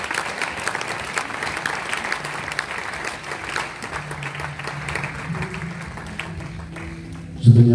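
A church congregation bursts into sustained applause, a dense wash of clapping that holds steady throughout, with a brief louder burst near the end.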